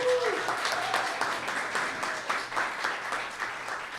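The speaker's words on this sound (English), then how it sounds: "Let's give her another round of applause" Audience applause at the grand opening press conference for Brooklyn FoodWorks, a steady wash of clapping held for several seconds, with a brief voice heard at the very start.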